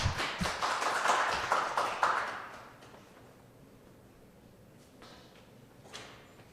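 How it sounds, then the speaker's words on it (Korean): Brief burst of audience clapping at a Hangul Society language and culture gathering in Korea, lasting about two seconds before dropping into a quiet, hollow room with faint shuffles. "박수로 맞아주십시오"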